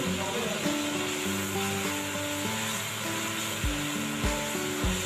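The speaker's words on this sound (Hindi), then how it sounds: "मसाले को मैंने इसके अंदर ना अच्छी तरह से भून लेना है, बहुत अच्छी तरह से मसाले को भूनना है।" Masala spices being fried in oil for a potato-and-egg breakfast dish, giving a steady, even sizzle that runs throughout under soft background music.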